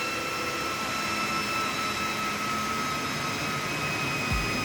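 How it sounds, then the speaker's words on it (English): Server power supply fans in an In-Win RM424 24-bay chassis, a loud constant whirring roar with high-pitched whining tones running throughout. "what's loud is the power supply fans. I can hear the high-pitched sound."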